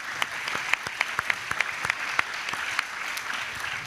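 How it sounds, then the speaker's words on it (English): A forum audience claps steadily, dense overlapping hand claps with a few sharper nearby claps standing out, no talking over it. "Let's give Sin Teck a round of applause"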